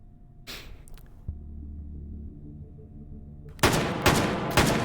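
Single shots from a .45 pistol in the VR shooter H3VR, a few sharp, loud cracks clustered near the end after a quieter stretch of low mechanical hum and handling noise.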